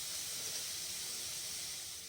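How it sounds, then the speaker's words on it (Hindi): Food dry-roasting in a black kadhai with barely any oil gives off a soft, even hiss that stays steady throughout, close by and with no talking. "इसमें तेल इतना मिनिमम डला है ना कि ये फ्राई नहीं हो रही, ये बस सिक रही है।"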